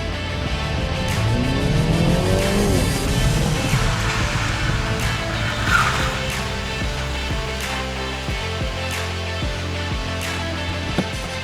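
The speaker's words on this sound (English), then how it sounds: "I'm going to speed up towards a set of cones and try and brake and turn at the same time" A MINI Cooper S brakes hard and turns with ABS engaged: a steady engine and road roar from inside the car, ending in a rapid series of pulsing clicks as the braking system cycles.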